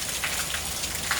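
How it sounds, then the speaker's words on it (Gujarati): Heavy rain pours down steadily, a dense, even hiss of drops drumming on surfaces close by, with no voices over it. "જો વરસાદ હજુ એવો ને એવો ચાલુ જ છે"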